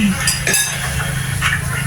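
Metal pots and utensils clank and scrape as sautéed garlic, ginger and onion are moved into a large pot, a few sharp clinks over a steady background hum.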